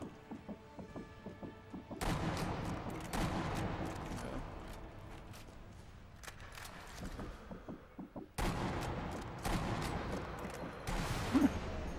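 Gunfire and heavy impacts from the Sniper Elite V2 video game, fired at a moving tank, come as sharp cracks and thuds over a dense, loud game soundscape with a quieter stretch in the middle.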